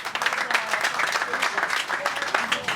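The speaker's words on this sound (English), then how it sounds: "A round of applause for all of us." Crowd applause at a community foundation gathering in Oshodi, steady dense clapping for a few seconds with voices mixed in under it.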